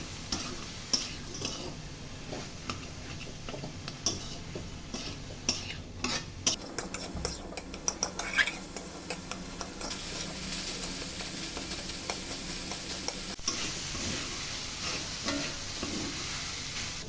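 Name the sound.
stirring minced meat with chopped onion in a pan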